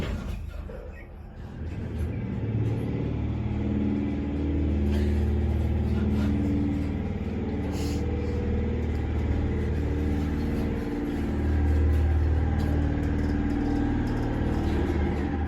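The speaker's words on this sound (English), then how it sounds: "Listen to that grinding motor." An Otis elevator's grinding motor drones on a ride down to the first floor in Reno, a loud, continuous low-pitched hum with wavering tones that swell and ease throughout.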